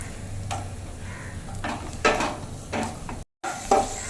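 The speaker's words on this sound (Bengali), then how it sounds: "কিশমিশ কাজু বাদাম আমার ভাজা হয়ে গেছে হালকা করে" Cashews and raisins frying in a pan: a soft sizzle with intermittent stirring scrapes and light clinks, one brief cut to silence near the end.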